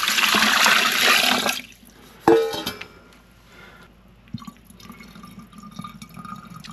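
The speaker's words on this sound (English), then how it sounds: "let's pour some water down there and see what happens." Water poured down a clogged, slow weeping tile drain gushes and splashes steadily for about a second and a half, then a brief clatter, followed by quiet trickling and dripping as it drains slowly.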